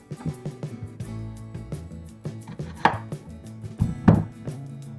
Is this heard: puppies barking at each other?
no